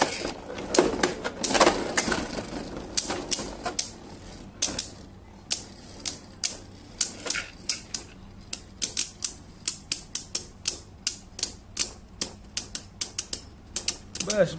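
A Burn Hyperion Beyblade spins in a stadium after launch, giving a steady run of sharp, rapid clicks and rattles, close and fairly loud, with a busier burst of clatter early on and regular ticking after.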